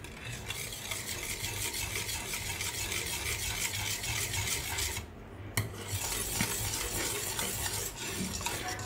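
Milk rice being stirred in a pot on the stove, a steady scraping stir with faint sizzling bubbling underneath, continuous and close, with a brief lull midway.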